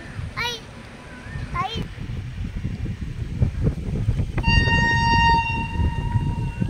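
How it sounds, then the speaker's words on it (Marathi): A train rumbles past nearby with a steady rolling clatter and a sustained horn, while a child and an adult chatter close by. "ट्रेन चालली"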